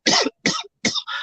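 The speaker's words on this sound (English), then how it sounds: "He coughing." A man coughs four times in quick succession, close and fairly loud, the bursts separated by short pauses, with no talk over them.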